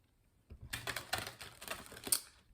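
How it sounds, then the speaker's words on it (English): Tarot cards being shuffled in a messy, rapid flurry of papery riffling and clicking, starting after a brief quiet and running busily to the end, close and fairly loud. "that was a messy shuffle"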